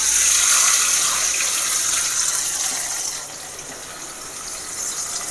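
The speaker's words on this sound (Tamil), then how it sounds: "இந்த நேரத்தில் இந்த புளி கரைசல் இதில் ஊற்றிக்கலாம்." Tamarind water is poured into a hot pan of sautéed ginger and garlic for beetroot thokku, a loud hissing sizzle and splash that gradually settles to a softer bubbling.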